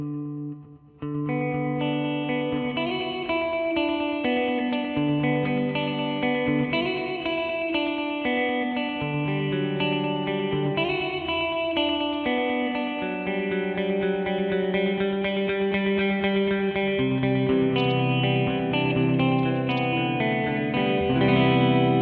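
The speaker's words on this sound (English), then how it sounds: "You should be hearing that delay line ping pong back and forth in your ears." Stereo pedal from the Death by Audio Destroyer series adding long reverb and ping-pong delay to a sustained, distorted chordal part, echoes bouncing back and forth in a continuous loud wash.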